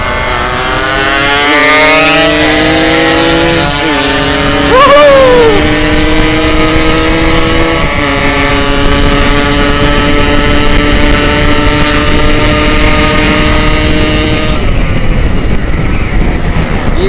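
A Yamaha RX-King two-stroke motorcycle revs hard and loud close by, its engine note climbing and holding in sustained high-pitched bursts for the whole stretch, with no talking over it.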